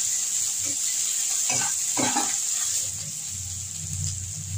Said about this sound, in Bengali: এইগুলো আমি ভাজবো, এগুলো একটু ভেজে দেবো।